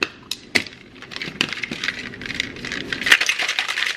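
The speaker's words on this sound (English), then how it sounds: "Okay, there goes all my ice." Ice cubes dropping and clinking into a drink, a series of sharp irregular clatters and rattles at close range, with no talk.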